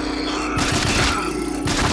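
Gunfire in the RAGE HD shooter game on iPad: a few heavy, muffled bursts of shots and thuds in quick succession, loud and close, with no talk.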